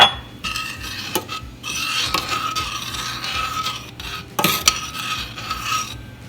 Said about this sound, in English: After it comes to a boil, we will add in the milk and then stir it.